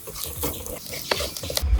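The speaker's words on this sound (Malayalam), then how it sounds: "മുളക് പൊടിയുടെ മഞ്ഞൾപ്പൊടിയുടെ ഒക്കെ കുത്ത് മാറുന്നത് വരെ ഒന്ന് ഇളക്കി കൊടുക്കുക" A spoon stirs chili and turmeric powder in a pan, making soft, quiet scraping and rubbing strokes with a faint sizzle, briefly and up close.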